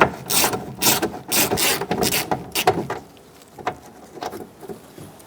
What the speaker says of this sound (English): We're going to take out our bolts on the outside of the door using a 10mm long socket, short socket, whichever one you have.